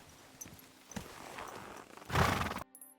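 A horse in Kingdom Come Deliverance II clip-clops along with soft hoof steps, then lets out a loud, close whinny near the end before the sound cuts off abruptly, with no talk.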